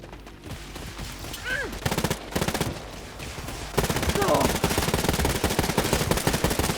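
Rapid bursts of automatic gunfire aimed at a robot enemy in the shooter game Wolfenstein: Youngblood, loud sustained volleys with brief pauses and then a heavier continuous stretch.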